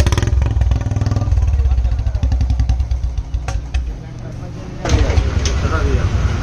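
A 2022 BS6 Royal Enfield Bullet 350 Standard with an aftermarket exhaust, catalytic converter still fitted, thumps loudly and steadily up close, the engine pulses easing mid-way before swelling again toward the end.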